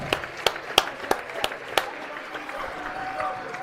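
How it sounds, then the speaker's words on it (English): Scattered hand claps ring out in a high school basketball gym, a handful of sharp, separate claps over a few seconds that fade into a low crowd murmur. "Let's give her a round of applause."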